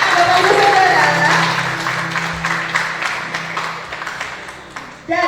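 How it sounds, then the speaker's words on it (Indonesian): Audience applause at an Indonesian New Year talk show under a steady background hum, gradually thinning out, with a louder burst at the very end. "Beri tepuk tangan Bapak Ibu Saudara."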